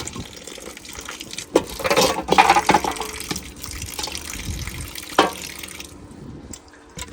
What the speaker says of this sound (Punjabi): ਇਹਦੇ 'ਚ ਪਾਣੇ ਆ ਥੋੜਾ ਪਾਣੀ